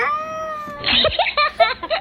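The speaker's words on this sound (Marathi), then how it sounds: "कॅट म्हणजे काय? शेजारच्या काकाची मांजर." A cat gives several short, close meows in quick succession, each sharp and distinct, following a sustained electronic tone.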